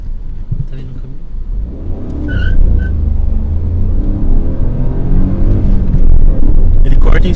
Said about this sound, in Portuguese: Vou fazer um 0 a 100, será que consigo?